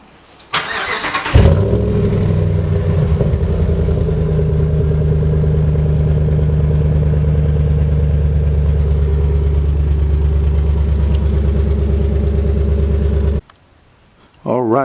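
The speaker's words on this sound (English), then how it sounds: "let's do a little start of my stock exhaust." A 2019 Dodge Ram Rebel with stock exhaust cranks and fires with a sharp burst, then settles into a loud, steady, deep idle rumble up close before shutting off abruptly.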